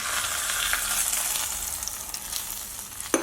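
Fried cashews and raisins are added to sweet jaggery Pongal payasam, giving a steady loud sizzle and crackle of hot ghee that runs throughout, with light stirring sounds and no talking.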